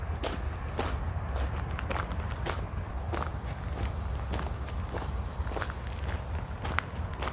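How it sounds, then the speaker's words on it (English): Locusts drone steadily near a waterfall and dam on Neshaminy Creek, a continuous high insect buzz layered over rushing water, with soft footsteps crunching along the path throughout. "There's the locust."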